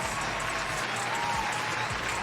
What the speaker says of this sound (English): I want everybody to give, a big round of applause to Jameer Davis